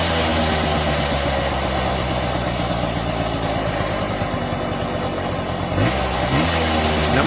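A classic Kawasaki KE trail bike engine runs steadily at idle, a loud, close, uneven two-stroke burble with a brief rev change near the end, and no voices.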